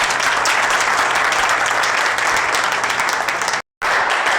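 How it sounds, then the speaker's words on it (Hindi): An audience at a talk on drug and alcohol addiction recovery claps steadily and loudly, a dense continuous wash of many hands that cuts out abruptly for a moment near the end before resuming. "ताली बजा दीजिए आप इसके लिए।"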